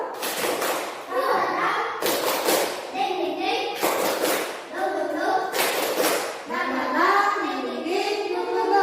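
Children doing a rhythmic spirit clap in a classroom, repeated bursts of loud synchronized clapping in a patterned beat, while the kids chant along loudly in unison throughout.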